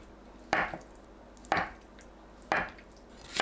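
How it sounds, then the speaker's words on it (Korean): A knife slices tofu into 1 cm thick pieces on a cutting board: three crisp, evenly spaced chops about a second apart, close and clear over a quiet room, with a fourth just beginning at the end. "두부는 반 자르고 1cm 두께로 썰어주세요"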